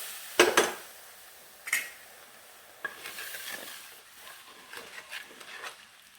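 Boiled tamarind water being stirred into a simmering ribbonfish curry, with a few sharp scrapes and clinks of a utensil against the pot followed by soft bubbling and stirring, close and fairly quiet.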